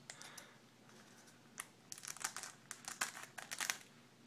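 A sealed Magic: The Gathering booster pack from the Chronicles set crinkles as its foil wrapper is opened, in a series of close, sharp crackling bursts that grow busier toward the end.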